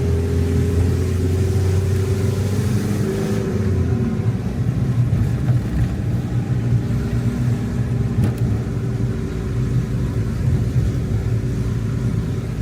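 A Renault camper van's diesel engine labours up a hill with a loud, continuous low drone and rumble that strains steadily throughout, with no talking.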